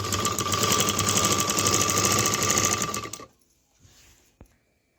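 A domestic sewing machine stitches a straight seam along a saree fall in one steady, loud whirring run for about three seconds, then stops, leaving faint handling sounds and a single sharp tap.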